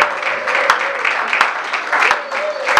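A church congregation applauds the Lord together, its sustained clapping and cheering blending with a loud voice that keeps speaking over it, with a few sharp claps standing out from the crowd.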